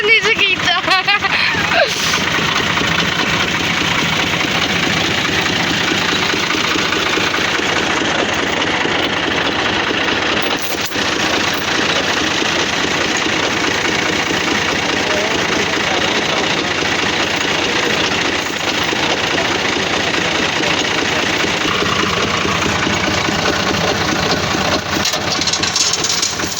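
A tractor engine runs with a steady, unbroken drone close by for the whole stretch, while people talk over it.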